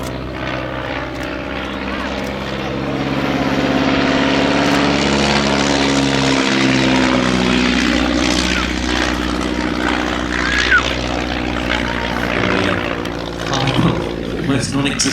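A low-powered aerobatic propeller aeroplane performs at the East Fortune air show, its engine a loud, continuous droning roar that swells and holds through the display.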